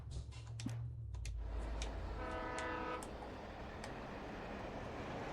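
A train horn sounds in the Alan Wake video game, a held, tonal blast over the rumbling clatter of a passing train, loud and steady throughout with no talk.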